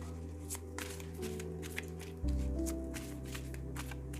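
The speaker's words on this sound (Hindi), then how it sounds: "चलो करते हैं कार्ड्स की शफलिंग" Tarot cards being shuffled by hand, a soft papery riffle repeating in quick irregular bursts, close and quiet over a steady low hum.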